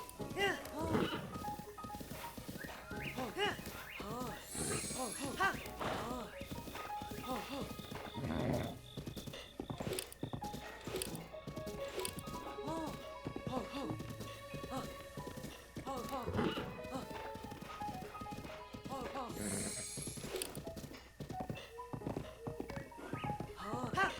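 Horse hooves clip-clop steadily in Zelda: Breath of the Wild, with an occasional whinny, set against game music and a person talking over much of the stretch.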